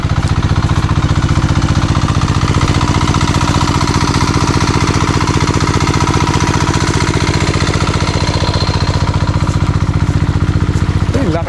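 A loud, steady engine with a newly overhauled motor runs continuously, with a rapid rhythmic chugging throbbing throughout and no breaks.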